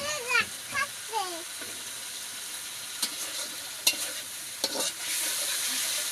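Garlic, turmeric, salt and chili powder stir-fried in oil give a low ongoing sizzle with scraping stirs and a few sharp clinks, while a high voice rises in short chirpy bursts near the start.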